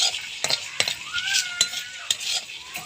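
Mung dal sizzles steadily as it fries in a hot pan while a spoon stirs with several sharp scraping strokes, close and clear, no talking.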